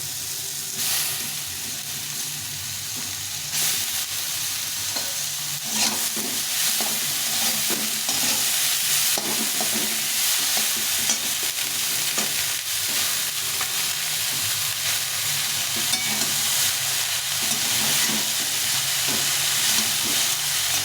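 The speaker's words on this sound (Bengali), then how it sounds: "ভালো করে নেড়ে দিয়ে এটাকে ঢাকা দিয়ে দিন" Shredded cabbage with turmeric frying in a pan, a loud continuous sizzle with frequent scraping stirs throughout, close and unbroken for about twenty seconds, no voices.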